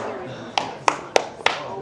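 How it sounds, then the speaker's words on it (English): Four sharp, separate claps ring out from hands at a live event in Austin, spaced unevenly over a couple of seconds against a low background murmur. "Y'all better start clapping."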